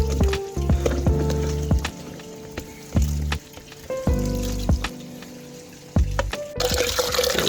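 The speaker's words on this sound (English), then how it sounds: "With a bit of wash, and then we'll pour out the water" Turkey tails are washed with water in a pot or basin while cooking in Samoa: splashing, sloshing and knocking sounds in uneven bursts, close by, ending in a louder rush of pouring water, with no talking.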